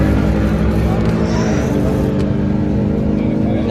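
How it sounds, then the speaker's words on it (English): Drag racing cars roaring down the strip at a track, a loud sustained engine blare with a rumbling low end dominating throughout, close and constant, with faint crowd or voices mixed underneath. "Now look, Dylan, that's drag racing for you"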